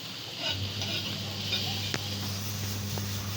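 Duck is stir-fried in a black pan with a copper rim, giving a soft, steady sizzle with occasional light scrapes and clinks, fairly faint and continuous.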